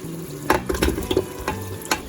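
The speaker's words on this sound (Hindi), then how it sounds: "तो अब हम इसमें डालेंगे अरबी" Taro root goes into a pot of mutton and yogurt cooking over a high flame, giving a lively sizzle with several sharp spoon-and-pot knocks and scraping stirs at an uneven rhythm, close up and without speech.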